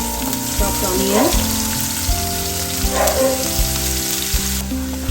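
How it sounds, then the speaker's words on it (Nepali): Chopped onion and garlic fry in a pan for a Himalayan fiddlehead and churpee dish, giving a steady, close sizzle throughout with faint tonal sounds underneath. "अलिक प्याजलाई भुट्नु दिनुहोस्।"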